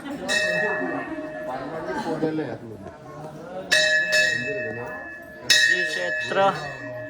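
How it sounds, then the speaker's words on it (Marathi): A metal temple bell at Kondeshwar temple rings loudly three times, each strike followed by a long shimmering decay, with people talking between and under the strikes. "आता वाजू घंटा."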